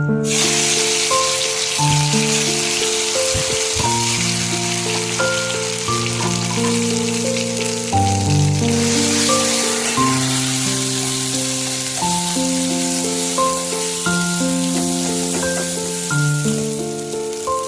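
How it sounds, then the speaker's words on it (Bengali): Ground taro paste frying in hot oil with black cumin seeds in a kitchen pan, giving a loud, continuous crackling sizzle up close while background music plays throughout. "কালো জিরেটা ভালো গরম হয়ে গেছে, এবার আমি কচু বাটাটা দিয়ে দেব।"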